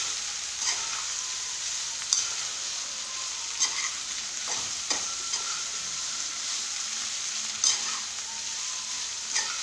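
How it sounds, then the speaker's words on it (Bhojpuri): Onions frying in oil for matar paneer, a constant hissing sizzle broken by occasional soft scrapes and taps as a spoon stirs the pan. "एक खूब अच्छे से हमन के चला देवल जाए।"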